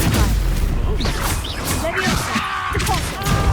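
A Stupefy stunning spell cast during a Hogwarts Legacy duel lands with booming thuds and crashing impacts, over a steady bed of magical combat noise, with voices speaking over it.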